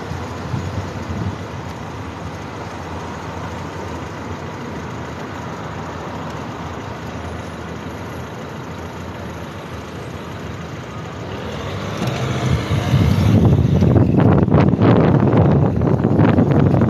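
A car travels along a road with a steady broadband rumble and wind roar, growing louder and rougher near the end as the vehicle speeds up or passes over a coarser surface; no talking.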